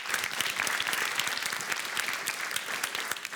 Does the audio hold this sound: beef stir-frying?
no